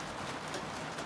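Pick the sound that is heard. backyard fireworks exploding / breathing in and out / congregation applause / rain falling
rain falling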